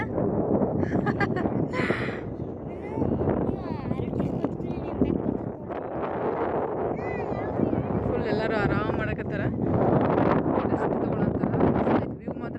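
Strong wind on Mandargiri hill near Tumkur buffeting the microphone in a constant roar while people talk over it.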